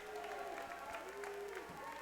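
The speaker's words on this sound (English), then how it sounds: "those leaving the court get a standing ovation from the crowd" A crowd at a high school boys basketball playoff game between Pine City and Milaca applauds in a standing ovation, steady clapping and cheering spread through the gym under a commentator's voice.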